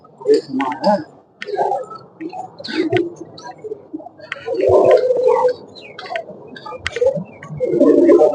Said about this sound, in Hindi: और इस पे कबूतर तो बेशुमार हैं।